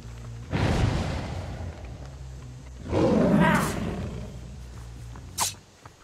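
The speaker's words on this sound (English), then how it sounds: "I like that tiger sound." A tiger roar from the Dead by Daylight horror video game, two loud rumbling growl bursts a few seconds apart followed by a short sharp yelp, heard over a quiet game background.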